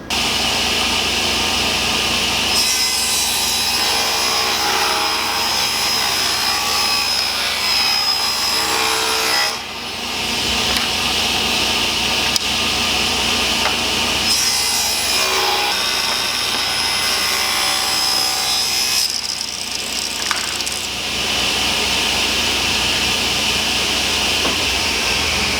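A saw cuts thin wooden spacers for a shadow box frame, a steady rasping drone that runs long, breaks briefly and then resumes, close and loud with no talking.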